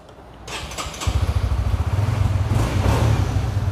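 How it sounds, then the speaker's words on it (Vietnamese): A classic used motorcycle at a Vietnamese dealer cranks and fires up, then settles into a crisp, rapid, pulsing idle, close and fairly loud, with no talking over it. "Rồi nổ máy cho anh chị em mình nghe nha."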